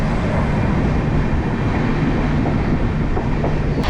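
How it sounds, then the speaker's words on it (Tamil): A Chennai suburban EMU train on the Chandrasekar-to-Tambaram run passes close by, a steady loud rumble of wheels on rails with faint clickety-clack running throughout, no voices present. "சந்த்ராஞ்சி டு தாம்பரம் ட்ரெயின் தாங்க கிராஸ் ஆகி போயிட்டுருக்கு"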